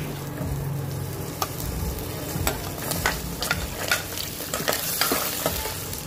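Garlic fries in a pan on an induction cooker with a soft continuous sizzle, broken by repeated scraping and tapping as a utensil stirs it nearby.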